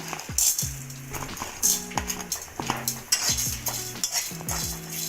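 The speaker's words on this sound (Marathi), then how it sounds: "आता चण्याची डाळ भाजून घेऊया." Chana dal dry-roasting in a pan, a spoon or spatula scraping and stirring in regular strokes with light metallic clinks and a faint crackle, close and alone.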